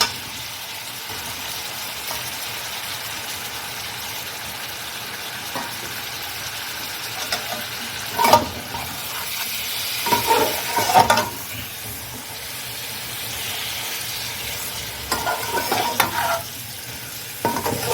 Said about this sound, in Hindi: इसे हम अच्छी तरह से भून लेंगे जब तक कि इसका कलर चेंज हो जाए